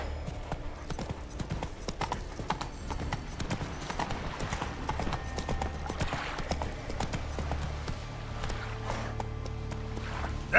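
Roach, a horse in the video game Witcher 3: Wild Hunt, gallops with a steady, close, continuous clip-clop of hooves, accompanied by a low rumbling bed of game sound throughout.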